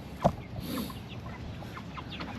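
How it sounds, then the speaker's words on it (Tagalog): Backyard pet chickens cluck softly while being fed, giving a few short clucks near the start over a quiet outdoor background. "Syempre magpapakain muna tayo ng ating alaga manok"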